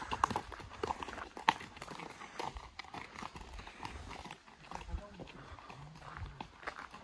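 Hooves of a Kyrgyz horse being ridden clip-clop faintly and irregularly outdoors while people talk over them throughout.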